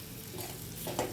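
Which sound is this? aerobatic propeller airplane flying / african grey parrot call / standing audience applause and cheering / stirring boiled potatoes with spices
stirring boiled potatoes with spices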